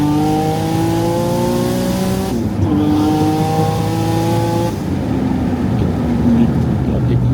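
A tuned Nissan G35 making over 750 wheel horsepower accelerates hard, its engine note climbing steeply through rapid gear changes with a loud, close, continuous roar and brief breaks between shifts.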